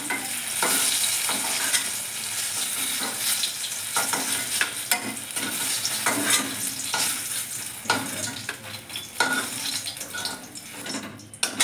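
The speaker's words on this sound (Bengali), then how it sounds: "আমার বেগুনটা লাল লাল করে ভাজা হয়ে গেছে" Eggplant fries in oil in a pan, with a bright sizzle under repeated clinks and scrapes of a utensil stirring against the cookware, close and fairly loud, no talking.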